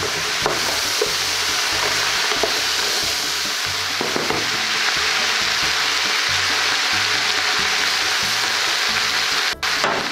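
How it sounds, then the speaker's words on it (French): Pheasant game bones browning in a pan, a steady broadband sizzle and frying hiss with occasional stirring scrapes, close and continuous throughout. "On commencera par faire revenir les os du gibier."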